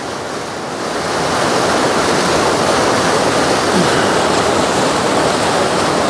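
Water pours steadily and loudly from a tap while a shaving brush soaks, a dense rushing hiss that swells after the first second and then holds constant.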